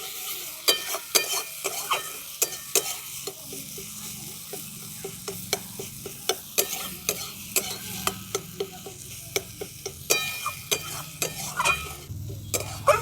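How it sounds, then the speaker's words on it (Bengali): A utensil scrapes and clinks repeatedly against a pan as coriander and turmeric powder fry in spices over a low steady sizzle, irregular stirring strokes throughout, no voices. "ধনে আর হলুদ গুঁড়োটা খুব ভালো করে মশলার সঙ্গে মিশিয়ে নিচ্ছি"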